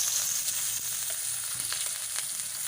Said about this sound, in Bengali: একটা গোটা পেঁয়াজ আর 2টো কাঁচা লঙ্কা কুচিয়ে রেখেছি তেলের মধ্যে দিয়ে দেবো